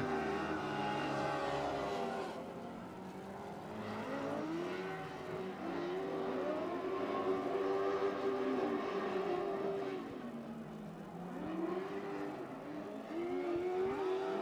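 Speedway bikes with 1000cc engines race around a dirt track, heard at a distance as a continuous, rising and falling engine roar with revving swells as they slide through the turns.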